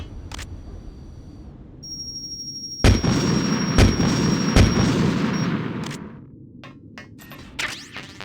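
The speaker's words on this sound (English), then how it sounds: "the best way to do that is to kill this thing with a Stinger missile" Heavy weapon blasts and explosions from Metal Gear Solid: The Twin Snakes, with three sharp loud booms in quick succession over a rumbling roar, then a high electronic tone and a run of fainter pops and bursts.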